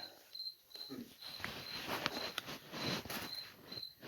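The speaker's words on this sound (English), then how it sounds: "this is like the loudest cricket I ever heard in my life" A loud cricket chirps indoors in short, regularly spaced trills, close and prominent over faint rustling and scattered clicks.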